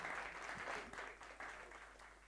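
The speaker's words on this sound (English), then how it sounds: "give them a round of applause" An audience at a startup summit in Johannesburg gives a round of applause, faint and fairly distant, with the clapping slowly tapering off over a couple of seconds.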